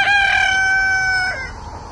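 A backyard rooster crows once, close and loud, in a single drawn-out call lasting over a second before trailing off into faint farmyard noise.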